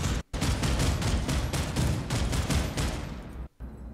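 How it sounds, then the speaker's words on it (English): Rapid automatic gunfire from Planetside 2 rattles in a dense, continuous stream of evenly spaced shots, loud and close, with two brief gaps before trailing off at the end. "I'm getting shot by some random guy that spawned in this under."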